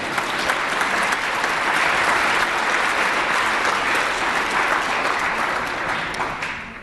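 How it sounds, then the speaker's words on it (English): A legislative floor chamber and gallery break into applause for guests attending a ceremony, a dense, even wash of clapping that holds loud and steady for several seconds before easing slightly at the end. "You can clap for that, yes"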